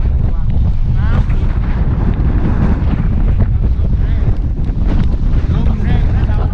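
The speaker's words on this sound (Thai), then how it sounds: "ยืนไม่ไหวแล้วลมแรงครับ" Strong storm wind from Typhoon Pabuk roars and buffets the microphone at Don Sak pier in a loud, unbroken gusting rush.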